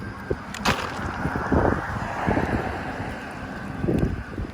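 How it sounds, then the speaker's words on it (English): Strong wind buffets the microphone in gusts and rumbles, with a few sharp knocks and scrapes breaking through now and then. "It's too windy."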